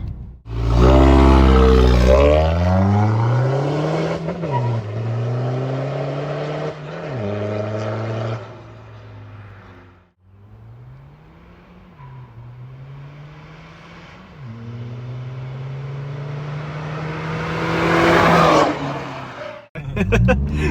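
A tuned Volkswagen Golf 7 GTD with a Stage 2 remap revs loudly and repeatedly, its engine note climbing and dropping through several sweeping pulls, heard up close from outside over about twenty seconds.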